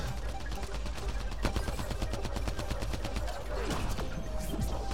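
A team fires guns at an enemy in Mass Effect Andromeda multiplayer on an ice map, producing sustained, loud automatic fire with overlapping shots and a few heavier impacts throughout.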